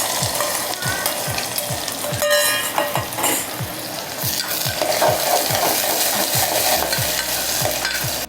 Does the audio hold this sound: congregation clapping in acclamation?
no